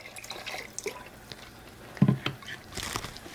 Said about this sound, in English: I'm adding the milk now, the 3 cups of milk and 1 cup of water